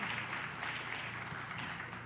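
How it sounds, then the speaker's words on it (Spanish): Church congregation applauding during a sermon, a dense, even wash of clapping heard at a moderate distance with no break. "Le damos un aplauso al Señor por esa gran promesa"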